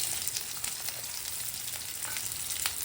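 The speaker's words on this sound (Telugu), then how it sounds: "ఇప్పుడు ఇందులో మనం తరిగి ఉంచుకున్న ఉల్లిపాయ ముక్కలు వేయాలి" Chopped onions fry in groundnut oil in a kadai, giving a steady, even sizzle and hiss with faint crackles throughout and no voices.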